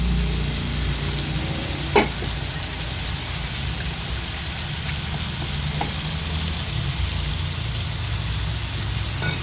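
Shrimp sauté in a pan for pakbet with a steady, moderately loud sizzle and one brief clatter of stirring.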